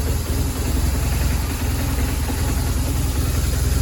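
A BMW R 1200RT motorcycle engine, back from service and ABS repair, runs at a steady idle with a loud, even, low rumble, close and continuous with no talk.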